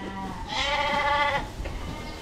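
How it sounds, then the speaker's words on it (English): A sheep or lamb gives one loud, close bleat lasting about a second in a barn holding separated ram lambs and ewe lambs, followed by quieter rustling. "here's all our ram lambs all separated out all their ewe lambs"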